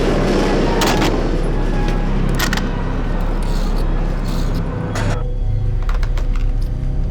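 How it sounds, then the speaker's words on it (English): A loud metallic bang from a ship's bow door during a storm, booming in sharp impacts over heavy roaring wind and sea noise, with a couple of distinct cracks standing out from the rumble. "he hears a loud metallic bang coming from the bow door area"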